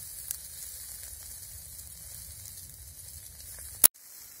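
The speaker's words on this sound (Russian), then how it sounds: "О, сальцо жарится, дает сок." Pork fat sizzling on potatoes roasting over an outdoor campfire, a steady soft hiss and crackle with an occasional faint pop and one sharp click near the end.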